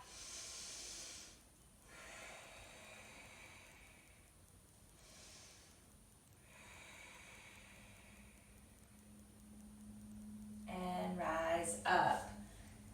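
During a yoga stretch for back pain, slow breaths come faint and close: soft airy inhales and exhales with gaps between them, then a brief louder rustle near the end, alongside a quiet instructing voice.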